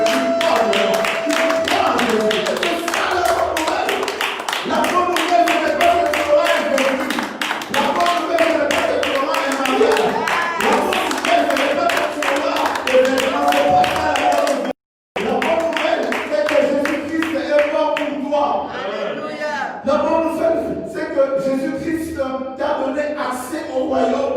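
Worship congregation clapping in steady rhythm to acclaim Jesus, loud and continuous with a brief break, while voices sing and call over it.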